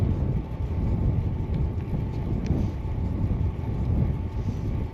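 Headwind buffets a microphone on a loaded touring bicycle on a long road ride, a constant low roaring rumble that stays steady and fairly loud throughout with no voices.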